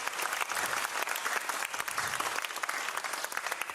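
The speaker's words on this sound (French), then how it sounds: "Des applaudissements pour les techniciens du CCF." An audience claps continuously and fairly loudly for the technical crew at a 2017 choir concert, the dense applause holding steady throughout without breaking off.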